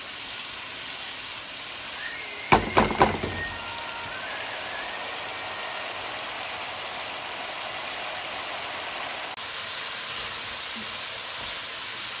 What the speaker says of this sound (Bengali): এখন মশলাটা খুব ভালো করে কষাতে হবে।